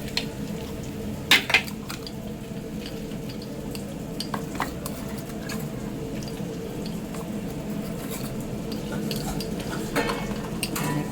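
Dal (lentils) is mixed by hand in a bowl in a home kitchen: quiet, close squishing and stirring with occasional sharp clinks of a utensil against the bowl.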